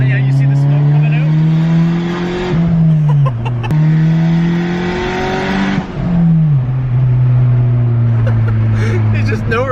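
A Honda EG hatchback fitted with a screamer pipe revs and accelerates hard in a one-tire pull, its loud raspy exhaust climbing through gear changes close by while voices talk and react over it.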